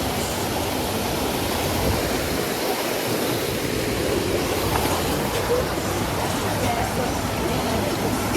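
A waterfall on a hiking trail roars as a constant, loud, dense rush of water that fills the whole clip, with no gaps or changes.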